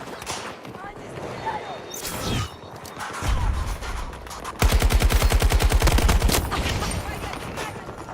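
Bursts of gunfire from the Battlefield 2042 multiplayer game, with scattered shots early on and a loud rapid automatic volley in the middle, heard over game noise and voices talking.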